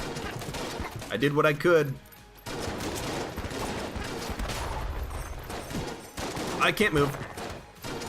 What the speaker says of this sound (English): Switch to the Void Shotgun.